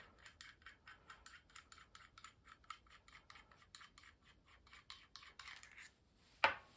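A tool turns the retaining screw on an AEA HP Max .30 air rifle regulator, making a quiet rhythmic series of dry ratcheting clicks and rasps, close and faint, ending in a single sharper snap.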